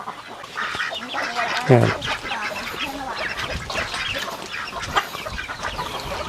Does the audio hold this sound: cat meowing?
no